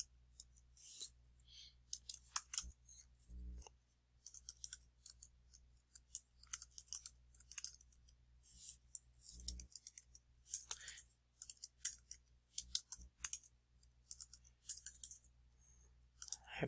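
Rapid bursts of key clicks, typing in uneven runs with short pauses, close and fairly quiet over a low steady hum.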